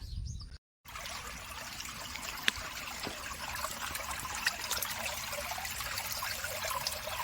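Water runs along a flooded lane through dense trees in a Konkan village during heavy monsoon rain. It makes a steady, faint trickling flow, briefly cut out near the start, with one or two small splashes.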